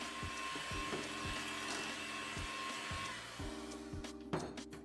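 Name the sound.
electric mixer mixing egg, yolk and vanilla into cookie cake batter on low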